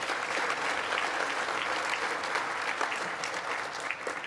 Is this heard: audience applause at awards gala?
yes